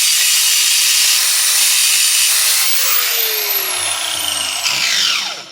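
A power grinder works a part down on a 2009 Subaru Forester with a loud, continuous high whine. The whine holds steady, then drops in pitch and fades as the tool spins down at the end.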